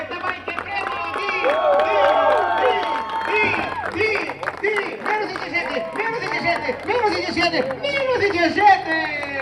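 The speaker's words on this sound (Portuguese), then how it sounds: "Merece um forte aplauso." A crowd at the finish of a walk-and-run event in Aruba claps and cheers for an arriving runner, under a loud announcer talking over a PA throughout.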